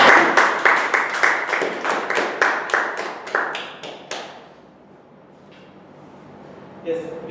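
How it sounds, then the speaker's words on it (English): Applause at a Toastmasters club meeting: roughly a dozen sharp, evenly spaced claps ring out loud and close, fading after about four seconds into a quiet room with faint murmuring. "Another round of applause."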